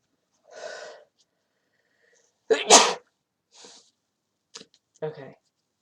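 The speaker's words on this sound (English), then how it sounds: "I'm gonna sneeze, hold on." A person sneezes once, sharp and close, in a quiet room, with small sniffs and breaths before and after it.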